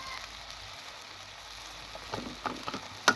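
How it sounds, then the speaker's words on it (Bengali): Chili powder and spice masala frying in a pan for a bottle gourd curry, a soft steady sizzle with a few louder stir scrapes and pops toward the end. "এবার মশলাটাকে ভালো মতো কষিয়ে নিতে হবে।"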